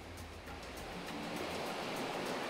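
Ocean swells and surf wash continuously and steadily, a broad full roar at moderate level with no talk, heard while riding waves in a small boat.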